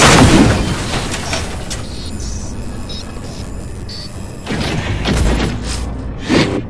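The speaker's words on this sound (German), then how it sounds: "Explosion?" Explosions in the video game Cyberpunk 2077: a loud broadband boom at the start, then fainter rumbling and another burst of booms near the end over steady game noise.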